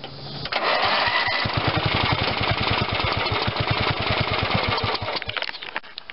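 A 1979 John Deere 111 lawn tractor with an 11hp Briggs engine and a running fault runs close by with a loud, rhythmic, uneven throb that holds steady for several seconds before easing off.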